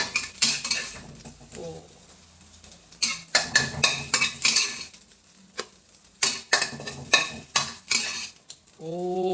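A metal spatula scrapes and clinks against a pan, scooping stir-fried eggs out in a quick run of sharp, close knocks and scrapes, with a short pause partway through.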